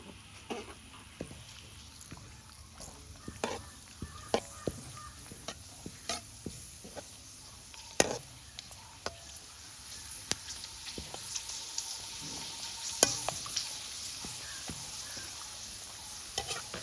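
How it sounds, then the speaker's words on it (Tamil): Appalam frying in hot oil left from cooking vada, a soft steady sizzle punctuated by scattered crackles and pops, fairly quiet and close. "இப்போ வடை சுடுற எண்ணெய் இருக்குதானா, அதுக்குள்ள அப்பளத்தை போட்டு எடுப்போம்"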